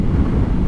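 Wind buffets a motorcycle helmet while riding a Yamaha Tracer 9 GT, a brief, loud, low roaring turbulence with no voice.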